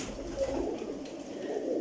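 Breeder pigeons cooing softly in a loft, a low continuous burbling murmur with steady throaty warbles and no voices.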